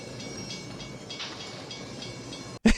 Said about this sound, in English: I know we have a train coming, but still.